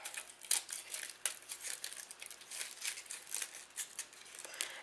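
Paper being ripped and crinkled off a party drink umbrella, a series of soft rustling tears and crackles close up, quiet and continuous with small bursts.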